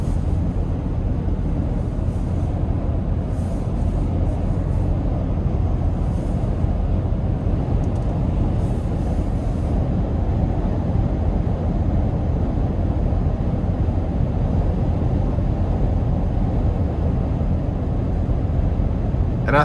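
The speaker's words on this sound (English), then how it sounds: "there's a little bit of wind noise coming through" Steady broadband rush of wind and road noise inside a 2026 Toyota Sequoia Hybrid 1794 cruising at 75 mph on the interstate, a constant dense roar filling the cabin with no voices.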